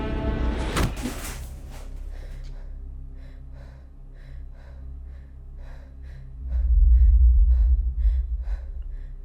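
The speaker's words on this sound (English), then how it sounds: "He's breathing!" A character in the video game Friday the 13th breathes heavily: a sharp gasp comes first, followed by a steady, rhythmic series of soft breaths. A low rumble rises beneath them near the end.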